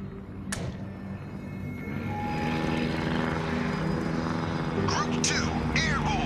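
Video game aircraft engines building to a steady loud roar for takeoff, with sharp whooshing effects near the start and end, under a radio voice calling out groups.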